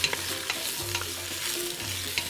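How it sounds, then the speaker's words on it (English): Leeks and celery sweat in a pan over medium-high heat, giving a soft continuous sizzle broken by light scraping stirs, close and without talk. "I'm sweating them now for about 5 minutes just to get them slightly softer."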